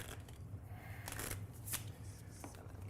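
A deck of playing cards is shuffled during a live Malediction team battle game. Quick papery riffles and flutters come in bursts, fairly close, with no talking.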